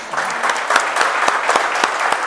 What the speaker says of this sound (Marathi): आम्हाला आमच्या टीमसाठी एकदा टाळ्या वाजवूया